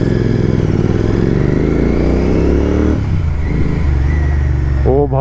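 A Royal Enfield Continental GT 650 motorcycle engine and exhaust rumble loudly and close, a continuous throaty thrum with shifting revs and some clatter, ending with a brief rising tone.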